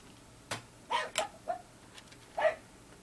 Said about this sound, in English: I don't know if you hear the dogs barking.